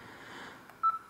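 A C3322i mobile phone keypad sounds DTMF tones while a service code is entered, with a couple of short, quiet electronic beeps over a low background hiss.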